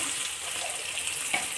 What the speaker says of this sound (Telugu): ఫస్ట్ ఈ అల్లం వెల్లుల్లి కొంచెం పచ్చి వాసన పోయేంత వరకు ఫ్రై చేసుకొని దీంట్లో మనం చేపలు వేసుకోవాలి